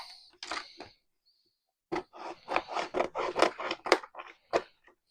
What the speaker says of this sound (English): So I'm just going to hold the template on there,